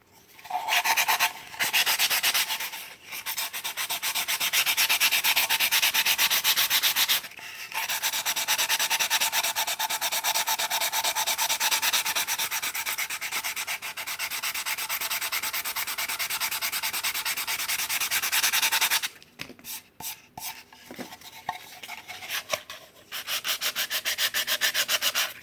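Steady back-and-forth rasp of sanding on wood during filling and finishing work, long continuous strokes broken by short pauses, then quicker choppy strokes before resuming.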